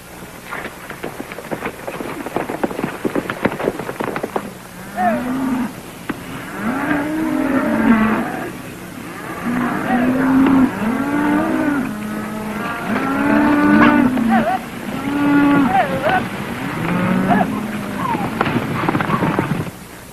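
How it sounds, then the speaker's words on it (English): Cattle low and moo repeatedly during a cattle drive, several animals calling one after another over steady rain-like background noise. "And Benson, don't push the cattle too hard"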